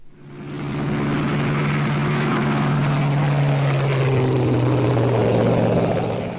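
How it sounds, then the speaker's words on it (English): Propeller airplane engine as a sound effect, a steady loud droning hum with a slight pitch shift, fading in at the start and holding throughout. "we have an audio file to represent the sound of the plane"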